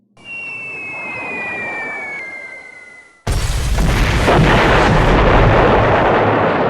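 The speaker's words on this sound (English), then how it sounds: "The 301st salvo their bombs." Bombs salvoed from B-17 bombers as a board game sound effect: a descending whistle of falling bombs, then a sudden loud, sustained explosive roar and rumble.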